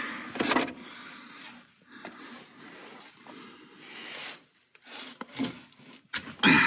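Under a TVR Chimaera during a T5 gearbox oil change, a drain pan scrapes and slides across the ground in short, scuffing bursts with brief quiet gaps between.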